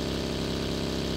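A motorbike engine drones in PUBG on the Erangel map, a steady, fairly loud mid-pitched hum running unbroken through the whole short moment.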